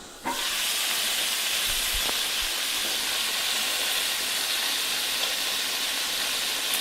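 Lamb chops sizzling in a hot pan, a loud, steady, close hiss that starts abruptly and holds evenly throughout without talk.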